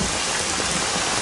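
Heavy rain pours down in a film scene, a loud, dense, unbroken hiss with no talking.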